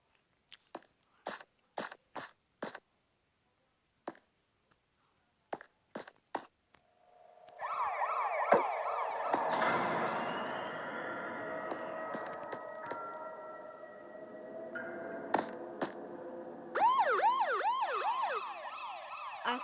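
Scattered sharp clicks, then a police siren starts wailing and keeps going, shifting into a rapid warbling yelp near the end.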